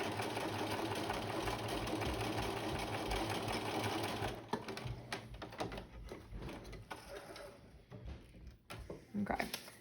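A sewing machine runs a steady, fast, mechanical stitching hum through fabric for several seconds, then stops and leaves scattered clicks and handling noises.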